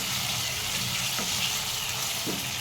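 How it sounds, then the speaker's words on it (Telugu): Ginger paste stirred and fried in oil for a prawn curry, a dense continuous sizzle with occasional soft scrapes of the spoon through the pan. "అల్లం పేస్ట్ని కూడా మంచిగా పచ్చివాసన పోయేదాకా కలుపుకొని ఫ్రై చేసుకోవాలి"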